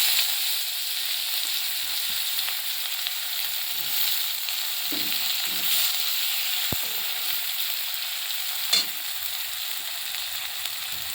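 Chopped onion fries in oil with a steady, moderately quiet sizzle, with occasional soft utensil taps and one sharp click partway through.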